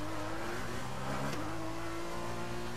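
Formula 2 race car engine from a PS4 racing game in Bahrain, revving steadily with a brief dip and pop around a gear shift before climbing again, heard alone without talk.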